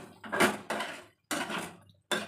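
A spoon stirring potato and pointed gourd curry with poppy seed in a pan, giving clattering scrapes in three loud bursts separated by short pauses, close and alone.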